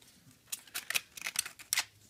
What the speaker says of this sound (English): you're going to want to take your scissors and cut